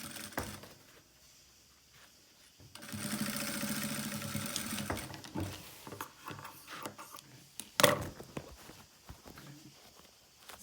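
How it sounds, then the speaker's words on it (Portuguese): A sewing machine stitches a fabric pouch for a hygiene kit, running in a steady mechanical whir for about two seconds, surrounded by quieter handling noises, rustling fabric and a sharp click. "agora eu viro a minha peça do avesso e costuro do meio pra outra ponta"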